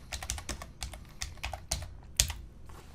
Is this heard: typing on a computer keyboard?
yes